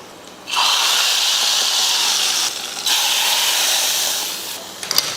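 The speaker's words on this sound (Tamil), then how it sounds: "கடுகு ரெண்டு மூணு சின்ன வெங்காயம் கொஞ்சம் கருவேப்பிலை இப்போ இது சாம்பாரில் ஊற்றிடலாம்" Hot oil tempering of mustard seeds, small shallots and curry leaves poured into a pot of sambar, a loud steady sizzle that breaks off briefly and resumes before fading, with no talking.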